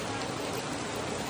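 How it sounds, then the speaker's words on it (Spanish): Steady, dense rain pours down close by, a continuous hiss of drops hitting surfaces with no pauses. "Miren cómo está lloviendo acá."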